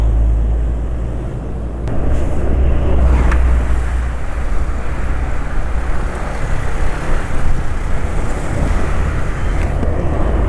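A steady motorcycle engine, running on Wealthy Vigorous 10W40 oil, idles and runs continuously up close, a low rumbling drone with faint rattling, no voices.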